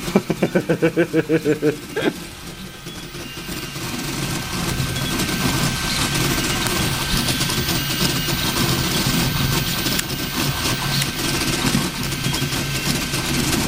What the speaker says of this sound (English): See that motor going, wow, good grief, that's quick to the back there.